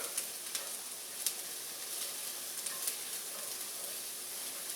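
Pieces of onion fry in a hot pan for a patty melt, giving a steady close sizzle with scattered sharp pops and crackles throughout and no talking.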